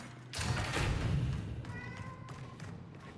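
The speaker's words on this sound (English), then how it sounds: "We start hearing cat sounds." A cat meows inside a video game, a short faint cry heard through game thumps and rumbling ambience, with no one talking over it.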